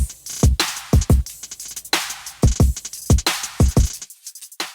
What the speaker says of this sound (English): It's a trap beat that I liked.